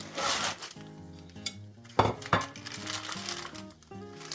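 Clinks and soft knocks of a frying pan and utensils as plum pie dough is flipped into the pan, with a couple of sharper thumps midway, fairly close and moderately quiet.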